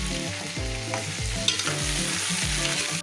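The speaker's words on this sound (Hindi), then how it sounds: "भिंडी डाल रहे हैं," Okra hits hot ghee in a pan and fries with a bright crackling sizzle, while a spoon stirs in quick repeated scrapes and knocks, close and continuous with no speech.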